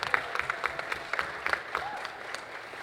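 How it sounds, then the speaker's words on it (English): Scattered, fairly faint clapping from a festival crowd at WOMAD 2016 greeting the Young Green Britons, sounding like a light, uneven smattering of hands rather than a full ovation. "Let's a big round of applause for all of them"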